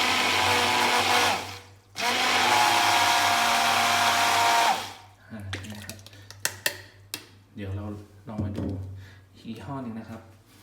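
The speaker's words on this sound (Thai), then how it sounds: "ถ้าเราถือลงไปไม่ถึงล่างมันจะดูดลงไปเลยฮะเพราะว่าแรงปั่นมันค่อนข้างเยอะมา" A Carte FMX021T 600-watt hand blender whirs loudly in water in two runs, a short gap between them, then stops, followed by someone talking with some clatter.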